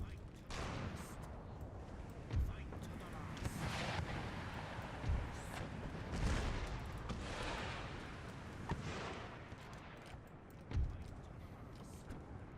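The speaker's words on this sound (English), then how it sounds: "Cannon, open fire on that point." Cannon artillery in Empire: Total War thumps in distant booms spaced every couple of seconds over a steady battlefield rumble, with someone speaking over it.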